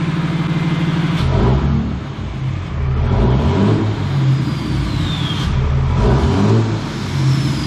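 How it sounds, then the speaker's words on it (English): A car engine recently fitted with new injectors revs up and settles in repeated swells, loud and close, with a rough throaty idle between the climbs. "Give it a rev."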